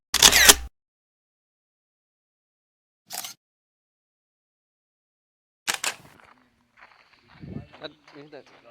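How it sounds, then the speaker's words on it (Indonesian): A camera shutter fires for a group photo at an outdoor nature camp: three sharp, isolated clicks separated by silence, followed by soft movement and voices. "Kita foto dulu, cekrek."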